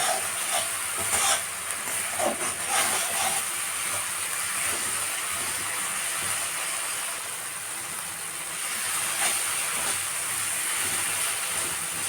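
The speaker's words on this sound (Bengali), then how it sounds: "অল্প একটু কষে নিব তারপরে জল দিয়ে দেবো" Spices sautéing in a pan for a thin singi fish curry, a continuous close sizzling hiss with occasional stirring scrapes, no voices.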